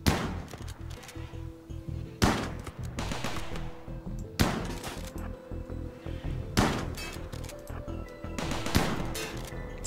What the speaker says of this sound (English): Let the gun do the work.